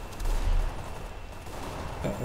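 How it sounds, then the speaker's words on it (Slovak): Rapid bursts of gunfire crackle continuously in an AWP deathmatch video game, over a dense, noisy background, loud and sustained for a couple of seconds. "Strieľa, tam sa strieľa."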